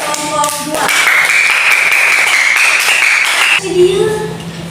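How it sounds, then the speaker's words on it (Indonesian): A classroom group claps together in a burst of steady, close applause lasting a few seconds, with brief voices before and after. "Tepuk tangan buat kelompok"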